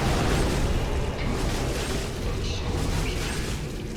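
A heavy weapon art attack from an action video game, a dense burst of booming, whooshing combat noise that stays loud and continuous across the clip.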